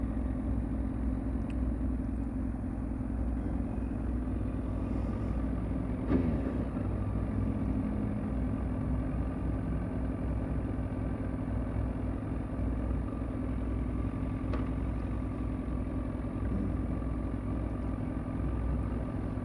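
A Chevrolet Camaro with a rough-sounding engine gives off a steady low rumble at idle, continuous and fairly close, with faint passing noises over it.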